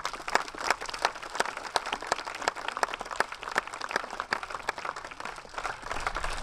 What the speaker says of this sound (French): j'aimerais que vous l'applaudissiez aussi très fort